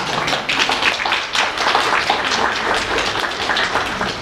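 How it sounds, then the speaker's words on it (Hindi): Dense, steady audience applause fills a 75th birthday celebration gathering, many hands clapping together at close range with no break, holding at an even, full level throughout. "आप अपनी तालियों से खुद का भी स्वागत कर सकते हैं।"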